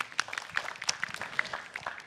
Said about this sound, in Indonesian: Tepuk tangan untuk Rispo.